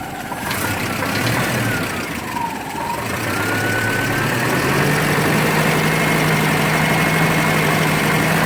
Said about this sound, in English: It sounds incredibly quiet, idles beautiful, has excellent throttle response.